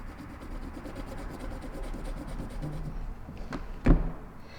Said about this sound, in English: I'm gonna be using my color pencils